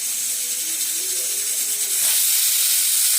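A pressure cooker on a lit gas stove, cooking bitter gourd for pickle, gives off a steady, close hiss of escaping steam that swells slightly louder toward the end.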